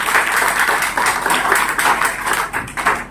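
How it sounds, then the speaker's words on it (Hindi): An audience at a gathering in Maharajganj breaks into hearty applause, a dense, rolling clatter of many hands, loud and close, steady throughout with a slight dip near the end. "एक बार सर के लिए और बड़े भाई के लिए ताली बजाइए, जोरदार ताली बजाइए"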